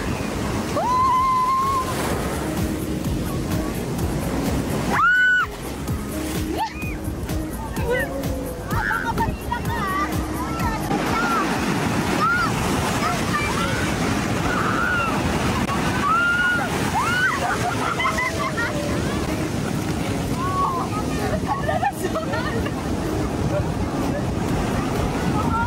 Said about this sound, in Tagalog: Yung alon, guys.